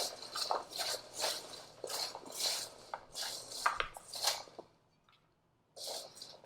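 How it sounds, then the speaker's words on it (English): Salted sliced okra is stirred in a bowl with a utensil, making repeated close scraping and rubbing strokes in an uneven rhythm before a brief pause and one more stroke. "And I'm going to stir it around a little bit."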